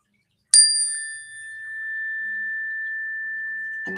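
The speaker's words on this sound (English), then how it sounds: "we are going to let this chime reverberate away all negative energies" A chime is struck once and left ringing, a bright strike that settles into a long, sustained tone fading slowly, with a brief rustle of handling at the very end.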